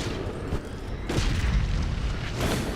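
A bomb goes off in the Rift video game, a dull low boom that swells near the one-second mark and rumbles on as a heavy, sustained roar beneath the game's background audio.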